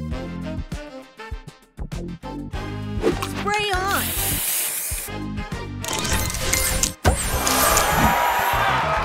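In the Match Masters match-puzzle mobile game, a spray booster gives a loud hissing spray burst among busy game music and effects, followed by a second spray wash near the end.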